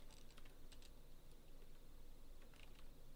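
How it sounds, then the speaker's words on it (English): Light, quick keystrokes tap on a computer keyboard in short irregular bursts, faint and close, with no talking. "all you need to do is type comp"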